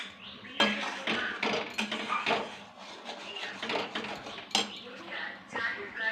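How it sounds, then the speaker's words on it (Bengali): A spatula stirs tomato sauce in a pan, scraping and clinking against the metal in irregular strokes, close and fairly loud, with a voice talking over it. "খুন্তি দিয়ে নাড়াবে।"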